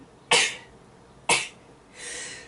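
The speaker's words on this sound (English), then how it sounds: "Sneeze." Two sharp, sudden sneezes about a second apart, close and loud, followed by a softer breathy exhale.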